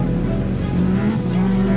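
Packard-supercharged race car running on E85, its engine revving loudly and close with a sustained, rising drone and a strong low rumble underneath.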